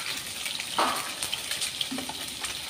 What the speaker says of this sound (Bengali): ডিমগুলো আমি হলুদ মাখিয়ে নিয়েছি, দিয়ে এখন ভেজে নিচ্ছি